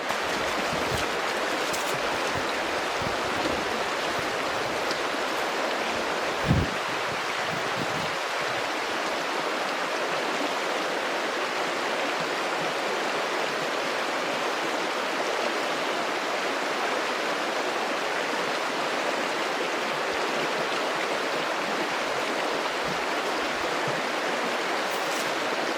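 A backcountry stream flows steadily and loudly, its continuous rushing water close by and unbroken, with one brief knock partway through and no voices.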